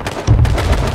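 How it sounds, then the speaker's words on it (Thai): A car blowing up in the battle-royale game H1Z1, heard as a sudden low boom about a quarter second in that holds as a dense rumble to the end, loud and close with no talk over it. "โอเครถระเบิดละ"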